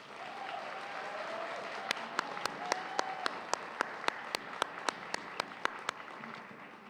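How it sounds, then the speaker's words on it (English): An audience at a Black History Month gala applauds softly in the distance, while a few sharp, evenly spaced claps from someone close by ring out above the faint crowd wash. "Let's now give them a round of applause."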